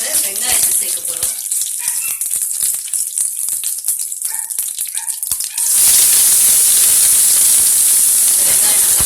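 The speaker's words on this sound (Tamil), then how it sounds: "வெங்காயம் நல்லா வதங்கட்டும்" Chopped onions and curry leaves dropped into hot oil for a southern-style chicken gizzard fry, with scattered pops and crackles at first, then a sudden loud, steady hissing sizzle close up.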